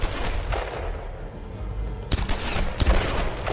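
Rapid gunfire in the Tomb Raider video game, several sharp bursts of shots that come louder and denser toward the end over steady game background noise.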